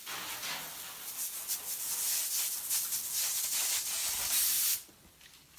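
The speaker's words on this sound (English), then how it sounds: "So I'm probably gonna spray and run." Continuous hissing aerosol spray for several seconds, broken by a short pause, then a fresh burst starts right at the end.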